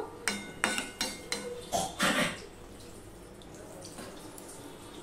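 Water poured into a small pot of mixed small-fish curry (chochchori) on the stove, heard as a few short splashing pours in the first two seconds, then quiet simmer-like hiss with no talk.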